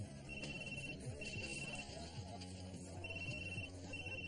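A faint electronic ringtone repeats in short tonal bursts over a murmur of background chatter and room noise.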